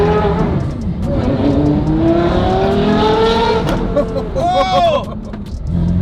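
A Porsche Carrera GT engine roars and revs upward in rising sweeps, loud and close, with a voice shouting over it.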